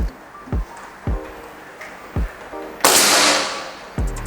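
A sharp shot from an SR Stainless Series air rifle, with a loud burst and fading hiss, amid a series of regular thumping knocks before and after.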